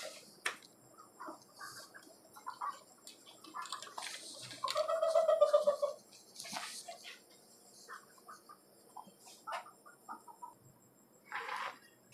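Tiger breed rooster and chickens kept in a cage cluck and call in short, scattered bursts, with one longer crowing-like call in the middle, over quiet insect chirping.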